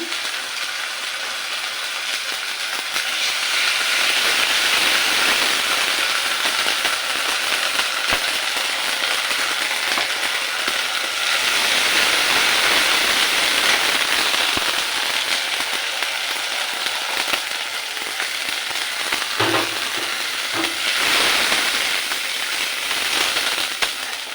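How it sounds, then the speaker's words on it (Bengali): Ginger and garlic spice paste fries in oil on a stove with a loud, steady, hissing sizzle that swells and eases in waves, with a couple of faint clinks near the end. "মশলাটা অলরেডি আমার কষানো শেষের দিকে, তেল উপরে ভেসে উঠেছে।"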